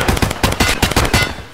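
Rapid gunfire in Escape From Tarkov: several sharp, loud bursts of shots in quick uneven rhythm over about a second and a half, close and punchy, with no talking.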